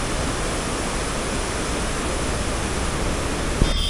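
The Pindar river rushes down from the Pindar glacier in the Himalayas, a loud, constant broadband roar of fast water filling the whole stretch, with a brief knock near the end.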